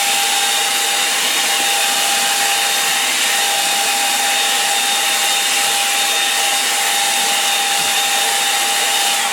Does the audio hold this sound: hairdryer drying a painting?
yes